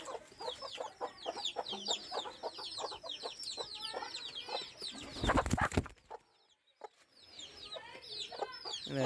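Free-range country chickens in a small backyard coop cluck steadily and close by, overlapping with busy chirping from other birds. The sound breaks off briefly near the end before the clucking resumes.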